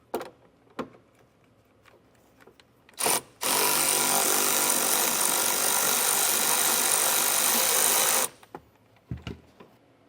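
A power tool spins off a plastic 10 mm nut in the driver's side taillight pocket of a 2025 Jeep, a loud steady whirring burst of about five seconds, with brief clicks and handling knocks before and after.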